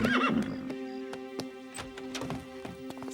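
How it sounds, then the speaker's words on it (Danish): A horse whinnies loudly at the start, a near, shrill neigh, then hooves clip-clop in scattered knocks over a steady background hum. "Tror du ikke også, det er hest?"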